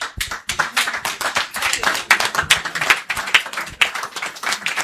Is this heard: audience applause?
yes